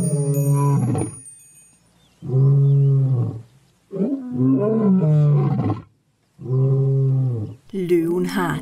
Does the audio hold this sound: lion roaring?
yes